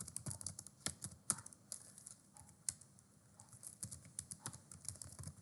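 Someone types a terminal command on a computer keyboard in Kali Linux, a quick irregular patter of close key clicks with a couple of sharper taps, no voice.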